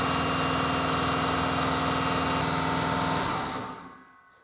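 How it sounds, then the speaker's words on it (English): A workshop air compressor runs at a loud, steady motor hum with a rhythmic chug, then winds down and cuts off near the end, leaving quiet. "as I was saying before I was so rudely interrupted by my air compressor"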